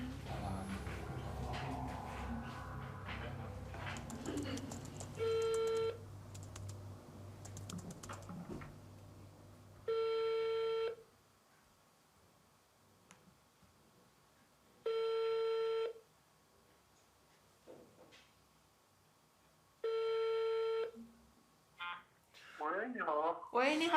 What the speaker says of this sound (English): A few days later, we try to reach him by phone.